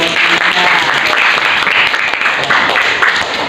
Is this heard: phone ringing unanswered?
no